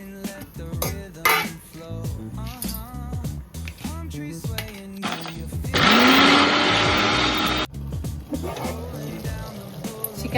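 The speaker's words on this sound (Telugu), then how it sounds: "ఇవన్నీ మిక్సీ జార్లోకి వేసుకోవాలి." A mixie blender grinds masala ingredients in its jar for a Telangana-style chicken curry, a loud whirring burst of about two seconds that spins up midway between scattered clinks of kitchen utensils.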